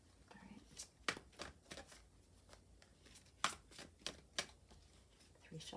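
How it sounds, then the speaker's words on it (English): Tarot cards are shuffled in quick, crisp riffles and snaps, a series of sharp papery bursts up close, with faint whispering between them. "3 shuffles"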